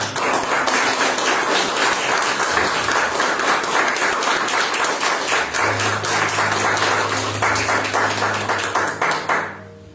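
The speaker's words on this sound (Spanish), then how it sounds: "Denle un aplauso al Señor." Congregation in a church service applauding together, a dense, steady wash of clapping that fills the space for nearly ten seconds before stopping abruptly.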